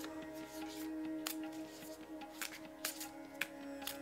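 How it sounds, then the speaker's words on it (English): A deck of divination cards being shuffled by hand, giving soft riffling and sharper snaps at irregular intervals, quiet and close. "we shuffle as we would any normal deck"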